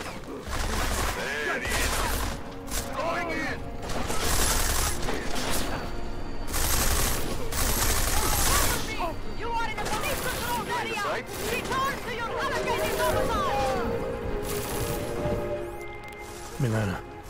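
Gunfire during a firefight in the video game Deus Ex: Mankind Divided, dense bursts of shots, crashes and mechanical clatter running almost without pause, loud and close, with in-game voices talking through it.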